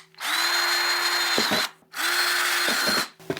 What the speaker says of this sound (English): drill 4 to 8 holes in this top lid